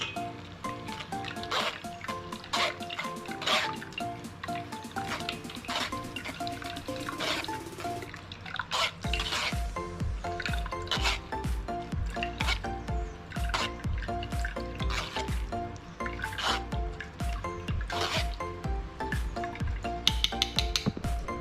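Blended cucumber pulp pressed with a spoon in a sieve, juice dripping and trickling below in a busy run of scrapes and drips, close and continuous.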